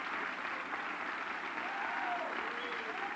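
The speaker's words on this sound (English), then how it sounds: "Would you give her a nice round of applause" A theater audience claps in steady, even applause, a soft wash of many hands heard from a distance throughout the brief moment.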